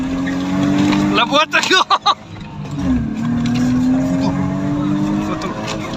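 BMW 320i driving, engine drone under the cabin with a quick burst of sharp exhaust pops around the middle, close and loud, while people talk inside the car.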